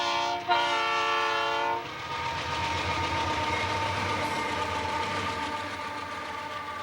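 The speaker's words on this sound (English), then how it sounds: "we spot an eastbound with a pair of AC 4400s on a rainy afternoon" An eastbound freight train led by a pair of AC4400 locomotives on a rainy afternoon along US 50 at Parkdale: a loud sustained horn blast opens, then gives way to a heavy steady rumble of the passing train.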